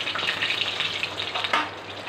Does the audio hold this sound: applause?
no